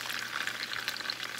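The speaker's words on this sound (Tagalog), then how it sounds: "Ayan, ipiprito ko na lahat ito." Banana and pineapple eggrolls fry in hot oil, a dense continuous sizzle and crackle heard close and steady with no talking.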